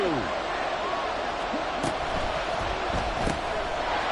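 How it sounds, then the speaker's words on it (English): A packed American football stadium crowd roars steadily during a tense fourth-quarter Packers drive, a continuous loud wash of cheering with a few sharper shouts and thumps rising out of it. "Well, this crowd"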